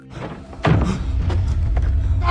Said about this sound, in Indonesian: pintu yang berada di belakang Mariko meledak